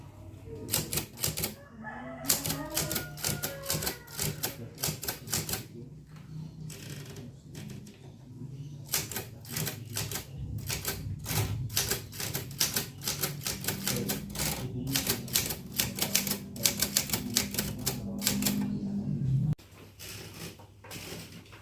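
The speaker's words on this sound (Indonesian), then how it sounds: "ketik naskah ini dengan cepat" A mechanical typewriter is used to type a manuscript quickly, with rapid, dense clacking keystrokes running steadily for about twenty seconds before a final heavier thunk, then the typing stops. No one speaks.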